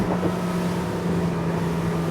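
A Sea Ray SDX 270 Surf motorboat engine drones steadily at close range while turning, with rushing water and wind noise over it.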